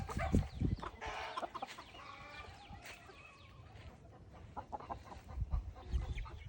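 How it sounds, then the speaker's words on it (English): A frizzled Cochin Bantam rooster clucks and murmurs nearby in a homestead yard, soft irregular bursts with a few louder calls and quiet background noise. "This right here is our frizzled Cochin Bantam, George."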